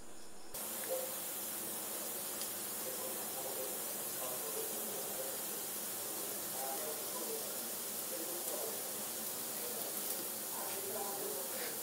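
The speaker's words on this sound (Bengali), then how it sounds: "সে ভেজে দিচ্ছে আমাকে পাকোড়াটা" Jackfruit pakora frying in hot oil gives a steady, even sizzling hiss that continues without a break, with faint voices in the background.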